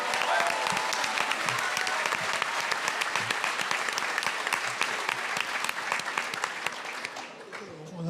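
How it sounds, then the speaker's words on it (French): Sustained audience applause at an anniversary gathering, a steady dense wash of many hands clapping for about seven seconds before fading at the end. "On peut l'applaudir."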